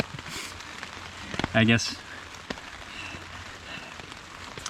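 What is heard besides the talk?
rain falling on a tent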